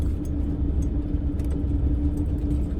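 A motorhome creeps along at about 9 mph in first gear, its engine giving a steady low drone and rumble throughout, fairly quiet and even.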